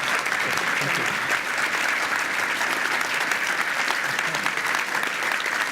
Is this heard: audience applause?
yes